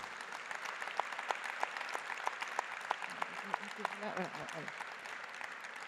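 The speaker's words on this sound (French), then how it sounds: "Moi, je voudrais que vous les applaudissiez, s'il vous plaît." Scattered clapping from a conference audience, a steady patter of applause with a few sharper claps standing out.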